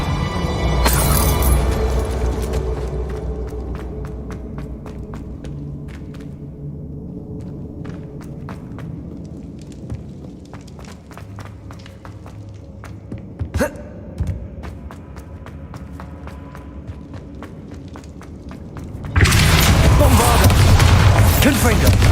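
Bombarda explosion spell from Hogwarts Legacy: a short blast opens, then a long quieter stretch of breaths and small thumps before a heavy, sustained boom erupts near the end.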